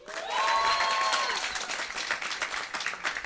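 An audience at a live comedy podcast taping claps and cheers, a quick swell of applause peaking early then thinning, with a brief high whoop or whistle over the crowd near the start.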